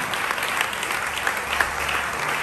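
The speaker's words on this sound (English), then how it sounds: "Clap on to our special welcome." A church congregation applauds first-time visitors with a continuous, loud wash of clapping from many hands, even and unbroken across the whole stretch.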